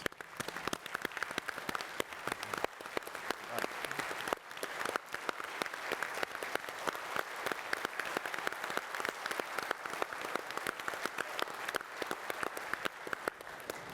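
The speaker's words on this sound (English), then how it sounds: "So I want you all to stand up and give yourself a round of applause." A standing audience at a pilot and air traffic controller communication panel breaks into dense, sustained applause, a continuous crackle of many hands that holds steady for the full length without talk.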